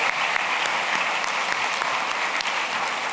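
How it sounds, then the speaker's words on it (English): An audience at an evening celebration of the 15th annual Nantucket Book Festival applauds its speakers, dense sustained clapping filling the room evenly and loudly for the whole stretch. "Keep the applause going for all of our speakers"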